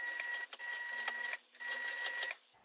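A sewing machine runs in two short bursts while stitching a fabric wristlet, with a steady mechanical whir and a brief pause between runs, close and fairly quiet.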